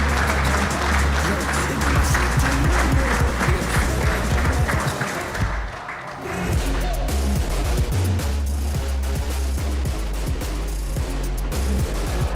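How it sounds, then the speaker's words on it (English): Applause from the audience at a rugby academy graduation ceremony, dense sustained clapping that dips briefly midway and then swells again, with some crowd noise mixed in. "You guys can give him a round of applause."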